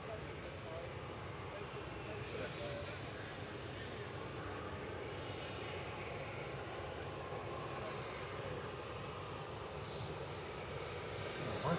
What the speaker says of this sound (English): Got 2EA coming in now, over the threshold.